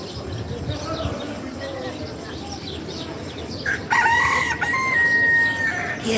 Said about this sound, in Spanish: Y el gallo cantó.